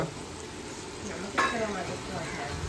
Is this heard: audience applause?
no